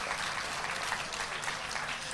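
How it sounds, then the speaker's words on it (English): Conference attendees applaud the winners at an international holistic health conference, a continuous, even wash of many hands clapping at moderate, fairly distant level throughout the brief stretch. "Let's have a big round of applause."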